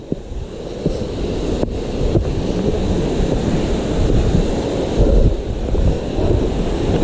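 A large waterfall in the hills of Keonjhar, about 150 feet high, gives a steady, loud roar of rushing water that stays dense and unbroken throughout, with no voices.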